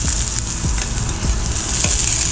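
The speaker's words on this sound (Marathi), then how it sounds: "तेल टाकलंय गरम झालं लसूण लाल" Garlic frying in hot oil for a mixed vegetable dish gives a steady, close, bright sizzle with faint stirring clicks throughout, and no voices.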